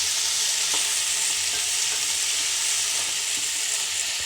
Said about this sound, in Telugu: కాకరకాయలు వేసుకోవాలి ఇలా బాగా మిక్స్ చేసుకోవాలి